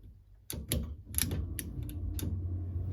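A handful of sharp clicks from a small black micro switch on a jammed Honeywell motor at a boiler, followed by a rising low mechanical hum as the unit starts.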